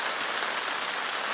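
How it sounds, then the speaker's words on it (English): Heavy rain pours down during a hunting trip in big horn sheep country, a dense, steady roar of drops drumming on a surface, loud and close with no break and no voices. "this rain is brutal"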